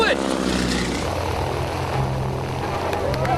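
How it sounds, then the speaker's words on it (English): A biplane flies at about 130 miles per hour in a steady, loud propeller-engine drone that fills the clip, with its pitch shifting slightly as it passes. "strapped to a biplane flown at 130 miles per hour"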